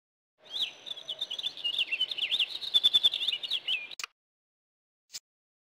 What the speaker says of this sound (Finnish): Vuorisinikka.